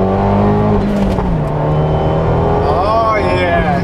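A tuned Fiat 124 Spider turbo pulls hard in second gear on an open road, its engine note loud and close, rising steadily in pitch as it accelerates, with a whistling turbo rise toward the end.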